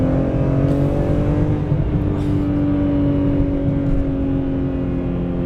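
A BMW M3 E46 with its six-cylinder engine drives at a steady pace, a loud continuous engine drone with even tonal hum and road noise, no voices.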